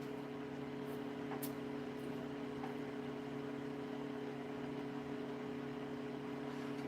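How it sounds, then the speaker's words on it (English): A constant low electric hum with a steady fan-like whir runs unchanged throughout, moderately quiet, with a faint click now and then. "You hear my heater in the background."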